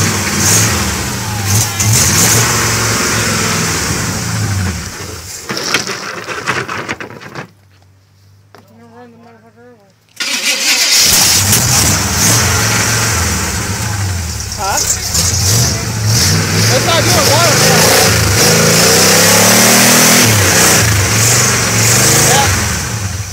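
A 1964 Chevrolet C10 pickup's engine turns over and runs, revving loudly and steadily for long stretches, with one brief near-silent gap before it fires up again; people talk over it.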